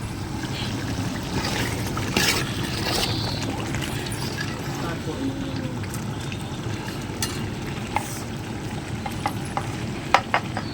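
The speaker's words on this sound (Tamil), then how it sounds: "அரிசியை வந்து நல்லா சென்டரில் கொட்டிக்குங்க" Raw rice for chicken biryani tipped into the centre of a pot, giving a soft pouring and stirring rustle with frying sizzle under it, a few small clinks near the end, and someone talking over it.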